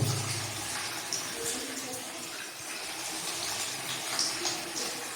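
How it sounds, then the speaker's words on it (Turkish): Hot water is poured all over a canary cage being cleaned, a steady, close rushing splash that runs throughout at a fairly even level. "Şöyle sıcak suyumuzu iyice ne veriyoruz, döküyoruz bir her yerine"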